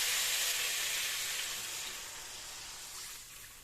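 Rohu fish curry simmering in a pan after water is poured onto fried spices, giving a steady bubbling hiss that starts loud and eases slightly as it settles, with no talk.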